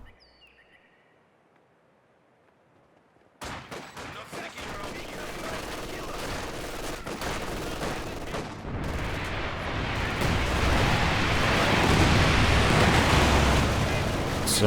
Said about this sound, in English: So now we're going to test the performance of these rockets against infantry.